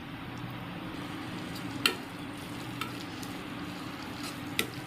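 A coconut, poppy seed and cumin paste sautés in a pan for drumstick-leaf soup, a quiet steady sizzle with a few sharp scrape and tap clicks from stirring, no talk.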